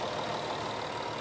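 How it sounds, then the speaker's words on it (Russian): A 2013 Volkswagen Touareg Execline diesel engine idles with a steady, close, even rumble and light clatter that never changes. "Давайте покажу, как работает двигатель."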